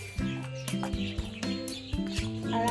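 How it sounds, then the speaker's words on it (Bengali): Birds chirp and cluck around a quiet home in the early morning, with a rooster or hen among them. Short, repeated calls rise close by over a steady bed of outdoor sound. "পাখিদের কিচিরমিচির আওয়াজ।"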